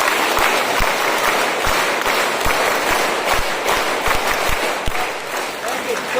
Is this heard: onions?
no